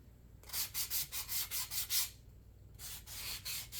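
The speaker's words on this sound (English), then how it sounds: "use a mask while sanding so you're not breathing in any paint and wood debris, just to be safe" Hand sanding along the edges of painted wood to distress it, a series of quick rhythmic rubbing strokes, a pause, then more scraping, close and fairly quiet with no talk.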